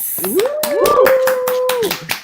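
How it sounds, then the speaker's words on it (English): An audience claps hands in a steady rhythm at a Halloween stage event, the sharp claps coming in even beats under a loud, drawn-out voice. "Everybody give a hand clap of praise"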